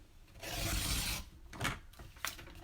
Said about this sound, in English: you're basically just trimming off the excess petals.